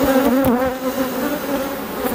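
Honeybees droning in a steady, continuous buzz at close range while a hive in production is opened for inspection, full of young brood and packed with pollen; the dense hum holds level throughout, with no voices.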